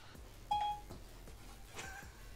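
A phone's voice assistant gives a single short electronic beep, quiet and clean against faint room hush, with nothing else around it.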